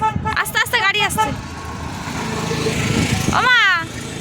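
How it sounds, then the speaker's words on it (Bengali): A vehicle approaches on a road, its rumble swelling gradually in the middle, with brief voices heard before and after it. "আস্তে আস্তে গাড়ি আসছে।"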